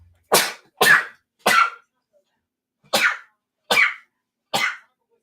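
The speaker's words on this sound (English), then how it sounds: "I don't want to sneeze anywhere near the cards." One person sneezes six times in close succession, loud and near, in two bursts of three with a short pause between.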